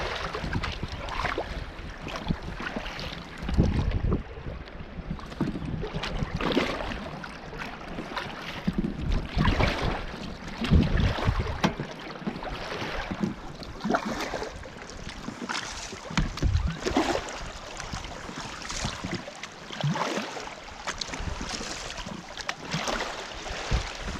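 Pack raft paddling on Loch Treig in Scotland, rhythmic splashing paddle strokes and water sloshing against the hull, with gusty wind buffeting the microphone throughout.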